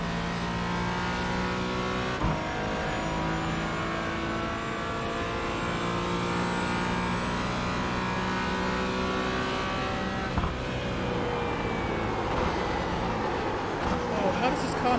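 Car engine drones steadily while driving, its pitch holding level with a brief shift near the end, close and continuous, with a voice talking over it throughout.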